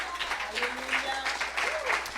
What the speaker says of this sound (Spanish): Si ese aplauso es para el Señor, dáselo fuerte.